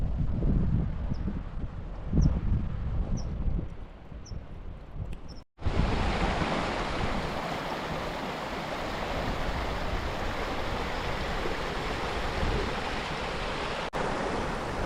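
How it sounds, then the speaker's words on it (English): A fast-flowing, deep river on the Cape Wrath Trail in Scotland rushes in a loud, steady roar close by, with a brief gust or handling bump near the middle and no voices. "that's a pretty fast flowing deep river"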